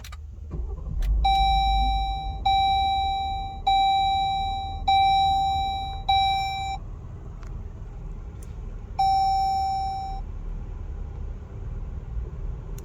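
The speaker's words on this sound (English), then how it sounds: "now starting up, it still has that traditional Chrysler chime" A 2022 Jeep Grand Cherokee L Limited's traditional Chrysler startup chime sounds as a bright electronic tone repeated five times in a row, then once more after a pause, over a low engine hum.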